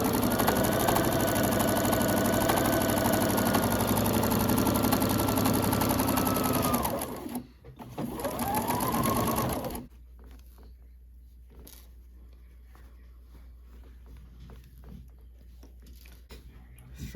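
Sewing machine stitching a rag quilt runs in a steady loud whir for about seven seconds, pauses briefly, runs again for two seconds, then stops, leaving quiet room tone.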